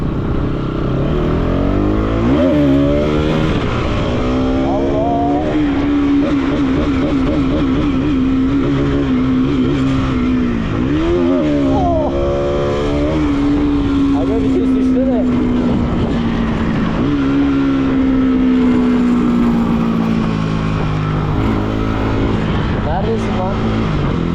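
A motorcycle engine revs at night, loud and close, with repeated rising and falling throttle sweeps as gears change, while voices talk over it throughout.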